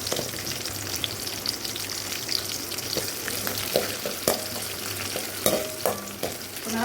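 Cumin, fennel, chillies, white ginger and small onions frying in a pan for fish curry, a steady close sizzle with scattered crackles and a few sharp clinks of stirring, no voices.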